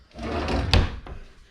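A single wooden drawer in a Fairmont Cavco park model tiny house slides open and bumps shut with a short thud, close by and fairly loud, with no voices.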